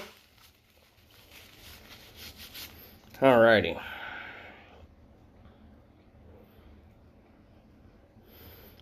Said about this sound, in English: Excuse me, I have to blow my nose.